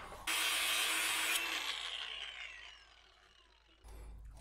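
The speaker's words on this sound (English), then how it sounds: "I'll take another bite with the grinder right there and see if I can actually open up a real notch to work with." Angle grinder cutting into steel on a Blazer rear axle, a loud harsh burst of grinding that starts abruptly, holds steady, then slowly winds down as the disc spins out, with a brief clatter near the end.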